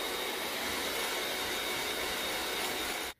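An electric whisk beats chocolate cake batter in a steady, dense motor whir that holds level throughout and then cuts off abruptly at the very end, close and alone.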